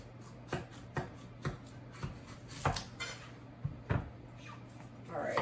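A knife cuts a pumpkin into smaller pieces on a board, making soft, fairly regular thuds and knocks, some louder than others, at low volume.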